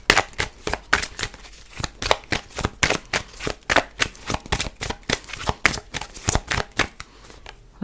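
Tarot cards being shuffled by hand, a steady run of crisp riffling flicks and soft slaps repeating in close, quiet rhythm for several seconds with no talk over it.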